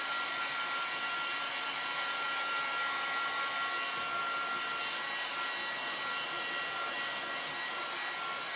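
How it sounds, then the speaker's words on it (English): Ordinary hair dryer blowing to dry ink on a craft transfer, a continuous loud whooshing roar that holds steady for the whole stretch without pause, with no voices. "You can use a hair dryer"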